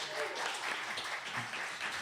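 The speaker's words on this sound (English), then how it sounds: "So big round of applause for Ethan for stepping in here." Audience applause during a live radio show performance, a brief continuous round of clapping with a voice over it.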